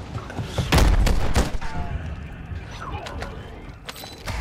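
Gunfire in a zombie battle royale video game: a heavy cluster of loud, booming shots early on gives way to scattered sharper reports and mechanical clatter over a busy in-game background.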